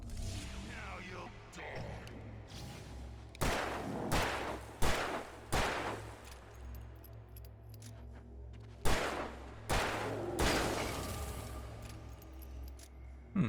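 Gunshots ring out in Alan Wake Remastered, a series of sharp separate reports spaced a second or two apart with lingering echoes over a low ambient drone.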